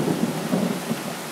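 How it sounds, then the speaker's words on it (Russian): A low, steady rumble of thunder rolls through a Moscow thunderstorm, with a continuous wash of rain over it and no voices. "в Москве гроза"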